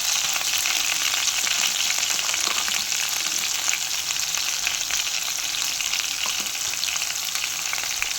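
Tomato pieces sizzle in hot mustard oil tempered with black cumin, cooked in the same pan after fish was fried for a pomfret posto dish; a steady, close, even crackle of frying with no talking.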